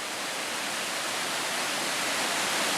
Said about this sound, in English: I think this is the best waterfall I've ever seen.